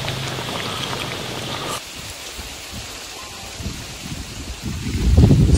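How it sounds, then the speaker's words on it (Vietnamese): Rain falls outdoors in a garden as a storm arrives, a steady hiss that drops in level partway through, then builds to heavier, closer patter at the end. "Mưa tới rồi."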